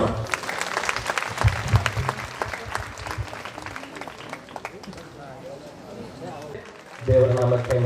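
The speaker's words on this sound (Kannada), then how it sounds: "ಚಪ್ಪಾಳೆ ತಟ್ಟುವ." A church gathering's audience claps in a dense burst that thins into scattered clapping, with voices underneath and a stronger tonal sound rising near the end.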